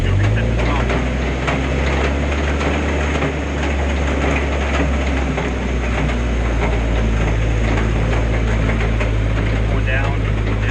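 New Mayco C30HDG concrete pump running, a loud steady low engine rumble and mechanical drone, close and continuous, with a person talking over it.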